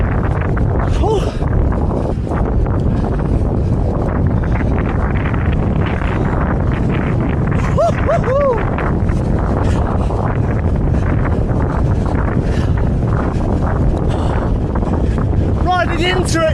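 Strong wind buffets the microphone while riding a bicycle outdoors in high winds, a loud, constant roaring rumble that never lets up and covers everything else.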